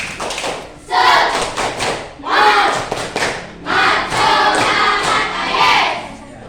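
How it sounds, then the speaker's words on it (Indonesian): Classroom students perform a rhythmic spirit clap before a lesson, loud bursts of group clapping and thumps in distinct patterned phrases separated by short pauses, with voices calling along. "sebelum kita mulai, tepuk semangat."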